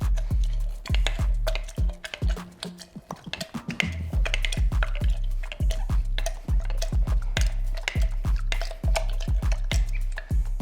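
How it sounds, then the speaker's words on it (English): Blackberries, mint, lemon wedges and simple syrup muddled in a cocktail shaker, a steady run of close, dull thuds and squishy taps repeating about twice a second with brief pauses, no talking. "Now muddle the ingredients."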